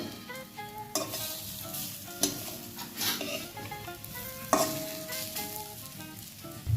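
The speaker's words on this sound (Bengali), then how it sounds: "এইভাবে আমি প্রত্যেকটা বড়া ভেজে নেব।" Khesari lentil fritters fry in hot oil with a continuous close sizzle and bubbling crackle, broken by a few sharp utensil clinks against the pan, and no one speaks.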